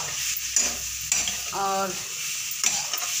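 Spiced potato and cauliflower being stirred in a frying pan, with a close steady sizzle and rhythmic scraping strokes of a spoon, and a brief spoken word in the middle.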